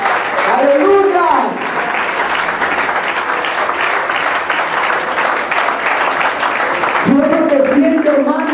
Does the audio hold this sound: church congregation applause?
yes